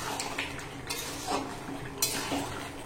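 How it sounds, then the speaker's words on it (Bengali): Chicken offal cooks down in oil in a pan, heard as a faint, steady background hiss with a few soft spatula clinks and scrapes, and no one speaking. "এখনো কষানো হয়নি, এখনো বেশ কিছুক্ষণ কষাতে হবে।"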